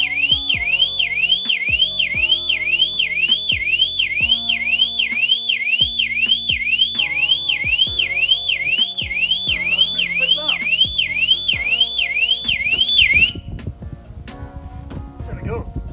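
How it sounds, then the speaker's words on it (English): A Vauxhall Astra 1.9 CDTi car alarm sounds loud and close as a steady, rapidly warbling siren for about thirteen seconds, then cuts off, leaving clicks and handling noises. "So at least you know the alarm works."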